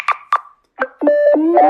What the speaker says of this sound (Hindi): आई थिंक फोन आ रही है